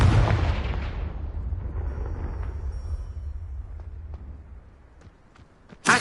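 A Confringo spell bursts in the Hogwarts Legacy video game: a heavy booming explosion that rumbles and slowly fades, followed by a few faint crackles and a sharp pop at the very end.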